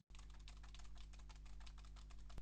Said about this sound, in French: je suis encore en train de massacrer mon clavier mécanique pour faire un maximum de bruit